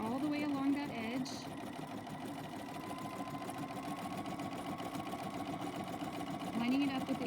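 A sewing machine stitches steadily along the edge of pillowcase fabric, its motor whirring with a rapid rhythmic needle clatter throughout, close and continuous, with someone talking over it.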